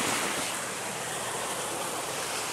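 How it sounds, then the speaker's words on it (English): Rushing, splashing water from a car driving through a flooded lakeside road by Owasco Lake, a steady broadband wash of waves and spray that stays loud and continuous throughout. "Oh, look at that. There's some waves."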